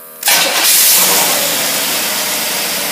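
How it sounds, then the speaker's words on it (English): Engine fed by a Carter carburetor on alcohol-based fuel and running lean: it catches abruptly and settles into a loud, close, harsh roar that holds steady throughout. "this carburetor is running so lean"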